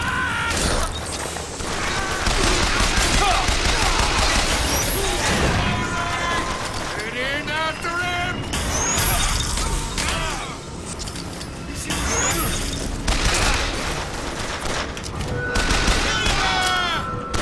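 Bursts of video-game gunfire from Vox Populi fighters crackle through a museum of alternate history, rapid volleys and scattered shots repeating across the stretch with voices talking over them.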